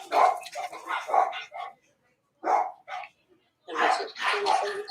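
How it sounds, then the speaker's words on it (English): Dogs bark in repeated bursts, some rapid and clustered, with brief pauses between them; the barking is fairly close and loud, with no other sound around it. "the dogs want to start acting up"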